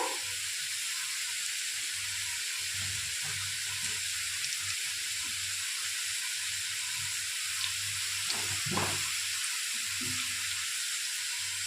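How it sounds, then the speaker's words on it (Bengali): Whole dried red chili and spices tempering in hot oil in a wok: a steady, even hiss of frying carries through, with a low hum underneath and no voices. "দিয়ে দেবো একটা গোটা শুকনো লঙ্কা আর ফোড়নে দিয়ে দেবো একটু চন্দনী"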